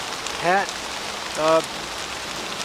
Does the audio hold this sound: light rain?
yes